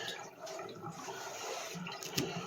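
Water drains away after a dog's bath, a soft trickling and gurgling with low splashes and a brief sharper burst near the end, heard close and fairly quiet.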